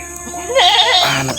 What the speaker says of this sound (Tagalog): So yan yung mga kambing.